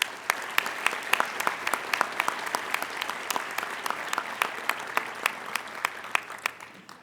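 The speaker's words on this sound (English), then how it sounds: "Please join me in applauding the excellent work of our Dean's List students." Audience applause at a Dean's List ceremony, many people clapping in a steady, moderately loud patter with some sharper individual claps standing out, lasting about seven seconds.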